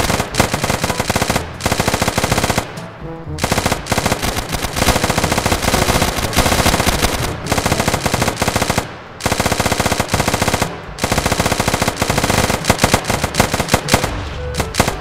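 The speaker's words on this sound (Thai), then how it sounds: "ยิงกันมันเลยครับยิงใครก็ไม่รู้นะยิงฮอ" Machine gun fire aimed at a helicopter in a modded Minecraft Arma 3 roleplay game: long, loud, rapid bursts with only short pauses between them, and no talking.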